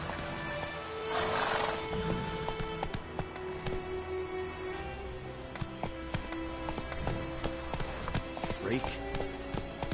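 Horse hooves gallop in The Witcher 3, a rapid clip-clop rhythm continuing throughout alongside game ambience, a short voice, and scattered effects.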